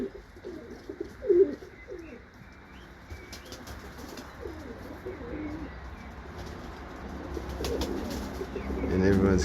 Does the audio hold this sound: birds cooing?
yes